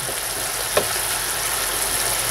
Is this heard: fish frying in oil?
yes